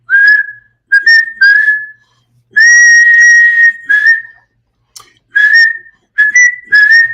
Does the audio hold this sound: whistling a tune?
yes